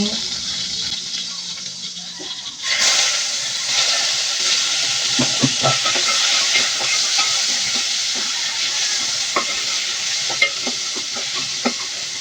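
Meat cooking in a pan in a small home kitchen: a loud, steady sizzle bursts in after a brief quiet start and keeps going, broken by occasional scraping stirs and clicks.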